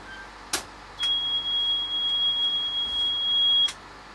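Alarm panel in the control room of the Scandlines motor ferry Holger Danske starting up: a sharp click, then a steady high electronic beep held for about three seconds before stopping with a click, loud and close, no voices.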